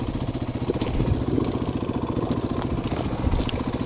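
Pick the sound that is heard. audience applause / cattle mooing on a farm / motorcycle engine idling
motorcycle engine idling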